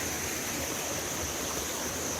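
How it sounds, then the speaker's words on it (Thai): Hot spring water and warm water flowing together at Chae Son National Park in Lampang, a steady broadband rush of running water heard close and continuous, with no voices. "น้ำอุ่นกับน้ำร้อนไหลมารวมกันนะจุดนี้"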